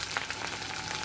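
Onion, ginger, chili and garlic paste and tomato fry in a hot pan with a steady, close sizzle and crackle over a short stretch, with no voices.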